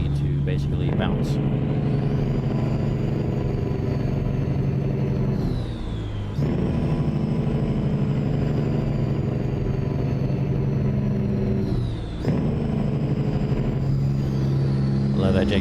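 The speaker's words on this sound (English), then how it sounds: "Love that jake brake." A Peterbilt 589 truck hauling a BlackHawk lowboy loaded with a Claas Xerion tractor, its engine braking with a loud, steady, throaty drone that sags briefly twice before building again.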